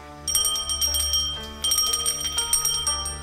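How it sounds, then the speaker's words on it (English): A small silver bell from a Syrinscape Tomb of Annihilation sound effect, rung in two clear bright bursts of rapid tinkling with a lingering ring, heard alone over a low hum. "Silver bell, there we are. Let's ring that."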